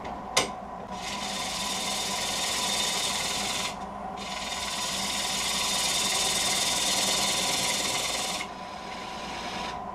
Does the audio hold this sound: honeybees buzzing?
no